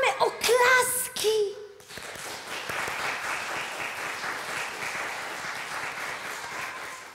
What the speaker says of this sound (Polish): Oklaski!